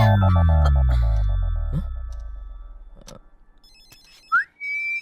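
A phone ringtone chimes in a steady repeating electronic pattern, loud and close, fading under a low hum before a brief rising tone at the end.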